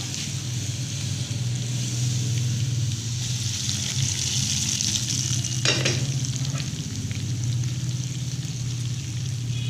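Steady, hissing sizzle of spices and chillies frying in hot oil for a chana dal tadka, continuous and fairly loud, with a brief clink partway through.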